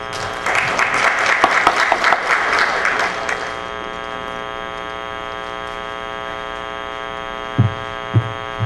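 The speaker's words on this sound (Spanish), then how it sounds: "Recibamos pues con un fuerte aplauso al doctor Julio Pozo Sánchez" A lecture audience gives a warm burst of clapping to welcome a speaker at a bar association talk. It lasts about three seconds and then stops, leaving a steady electrical hum with a few faint knocks near the end.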